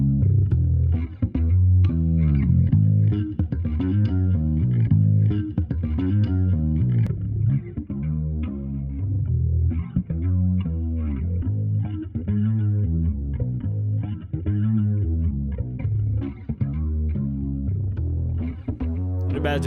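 A bass line through the Cymatics Origin lo-fi plugin's chorus and distortion, with a chorus shimmer and gritty distortion, steady and prominent throughout, with thick low notes and a slightly lo-fi, fuzzy edge.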